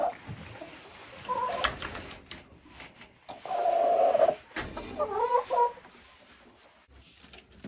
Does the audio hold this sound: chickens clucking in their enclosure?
yes